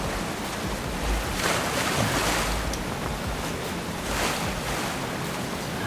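Rushing water roars steadily in a waterfall area of the video game Where Winds Meet, a continuous broad wash with gusty swells and no talking.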